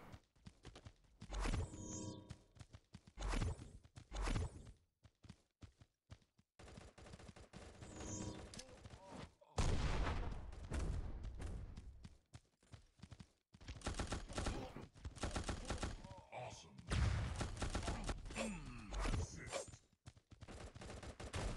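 Rapid video game gunfire from Gods of Boom, with bursts of shots and fusillades across most of the stretch, broken by short gaps, loud and close in the mix.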